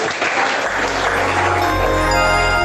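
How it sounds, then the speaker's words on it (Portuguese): A church congregation claps together at a service, a dense, steady burst of applause filling the room loudly, with an organ or keyboard tone sustaining underneath as it continues. "Vamos bater palmas na glória a Deus."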